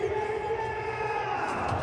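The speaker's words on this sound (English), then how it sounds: "Thousands still here, in fact." A large cricket stadium crowd fills the air with a steady, distant roar and murmur, a continuous wash of thousands of voices without distinct cheers.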